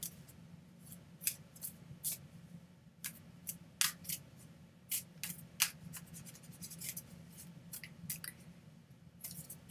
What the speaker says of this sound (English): Shuffling, shuffling, and I'm shuffling, shuffling, and I stopped